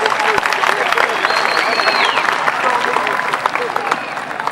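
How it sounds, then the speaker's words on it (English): A crowd at the V8 jet sprint boat races at Shelter View Jet Sprints Park in Whanganui, New Zealand, claps steadily and loudly, with a few scattered cheers and whistles and an announcer's voice over the applause. "give Rob and Ange Coley a big round of applause"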